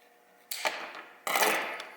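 Two sharp cutting bursts, about a second apart, as the stiff shank of a pointe shoe is cut through. Each is a crisp, near, rasping snap that trails off into a short scrape, with quiet room tone between them.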